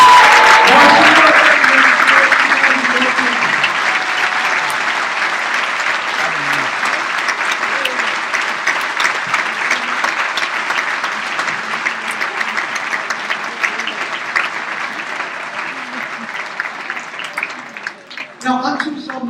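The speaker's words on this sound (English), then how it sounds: "so one big round of applause" Graduation audience at a secondary school ceremony breaks into sustained applause, loud and dense at first and then gradually thinning and fading toward the end, with a few scattered claps and faint voices underneath.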